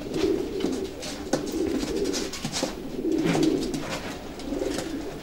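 Several racing pigeons coo steadily at close range while being handled, a continuous low burbling murmur with a few brief rustles and no voices.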